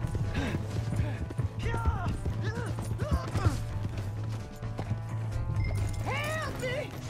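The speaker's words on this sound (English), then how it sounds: "Hey, that's my horse." A horse in the video game Red Dead Redemption 2 moves at a steady clip-clop of hooves, running continuously beneath agitated voices talking throughout.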